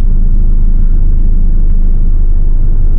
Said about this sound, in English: Fifth gear, 40 kilometers an hour, about 800 RPM, going up a hill.